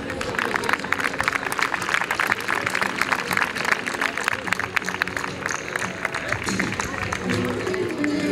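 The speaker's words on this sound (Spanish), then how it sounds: "Un fuerte aplauso, por favor." Crowd applause and cheering greet a horse rider at a doma vaquera riding exhibition held at a motorcycle rally, steady dense clapping from a large outdoor audience with some voices mixed in.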